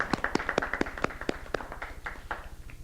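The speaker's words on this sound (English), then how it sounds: "I think that deserves a round of applause right there in and of itself." Toastmasters meeting audience gives a short round of applause, a handful of distinct claps in a quick, fairly regular rhythm, fading slightly over a few seconds, moderately quiet and close.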